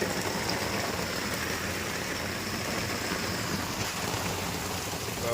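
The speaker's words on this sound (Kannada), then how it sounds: "ಮಳೆ ಶುರುವಾಗೋಯ್ತು" Rain falling steadily around a vehicle after a tea stop, a dense even hiss of drops on surfaces that continues unbroken at constant loudness.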